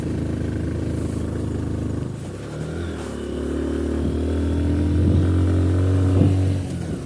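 Motorcycles ride along the road to Sajek, engines droning and rising in pitch as they accelerate, with steady road rumble throughout.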